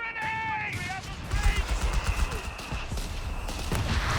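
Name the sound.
mortar fire in video game Company of Heroes 3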